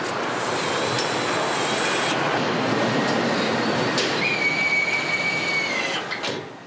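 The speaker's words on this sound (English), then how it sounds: "Listen to the sound of a bolt being tightened." An electric DC nutrunner tightens a bolt on a Ford F-150 truck assembly line, a rising whine heard over continuous loud factory rumble and clatter, with a steady tone emerging near the end.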